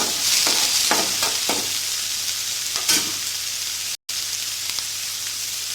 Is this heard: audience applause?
no